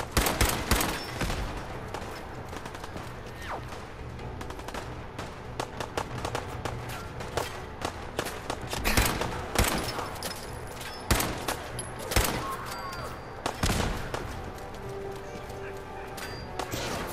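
Enemies open fire in the Fallout 4 video game: sustained, dense gunfire, rapid cracks and volleys stacked over one another, loud and close throughout with a few heavier bursts.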